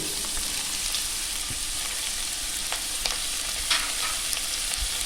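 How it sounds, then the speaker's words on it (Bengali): Sliced garlic, ginger and green chillies sizzle steadily in a hot pan, a close, even crackling frying sound with faint stirring and no voices. "আমি রসুন আর আদা স্ল্যাস করে কেটে রেখেছি আর কিছু কাঁচা লঙ্কা এগুলো আমি এখন এর মধ্যে সব দিয়ে দেব"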